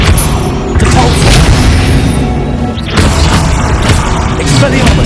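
A Depulso spell strikes in Hogwarts Legacy, a loud, dense blast of booming, crashing impact noise that stays continuous through the stretch, with a second heavy surge partway in and other game sounds layered over it.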